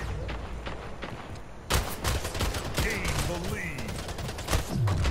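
Automatic rifle fire rattles in the video game Splitgate: rapid bursts of shots with a dense crackling rhythm and a sharp onset, under a player talking.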